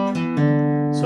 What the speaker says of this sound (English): This leads us to a left hand pull-off sequence, which is pretty cool.